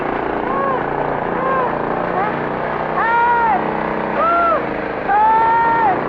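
A runaway motorboat engine drones steadily beneath panicked shouting voices, with no let-up in the motor's hum as the people yell over it.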